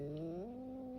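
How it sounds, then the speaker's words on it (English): A low, steady cat growl, sustained and rising slightly in pitch, close and alone with no talking. "That's the cat growling."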